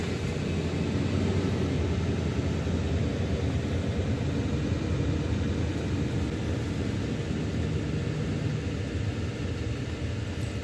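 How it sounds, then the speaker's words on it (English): A Lexus LS 400 engine runs with a steady, continuous low rumble, even and unbroken throughout, heard close from inside the car. "Let me start the car for a moment."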